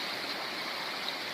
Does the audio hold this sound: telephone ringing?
no